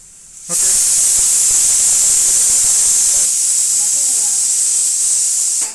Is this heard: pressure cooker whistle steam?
yes